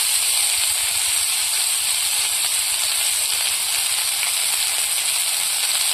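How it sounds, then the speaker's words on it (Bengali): Chunks of elephant foot yam sautéed in a pan with salt and turmeric give a steady, loud sizzling hiss that holds evenly from start to finish, with no voices. "হলুদ, ভালো করে কষিয়ে নেবো ওলটা।"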